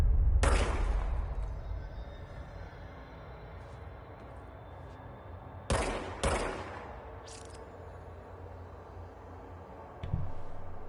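Gunfire in the video game Control: a loud sharp shot near the start, then a pair of close bursts around the middle and another later, each ringing out over a low quiet room tone.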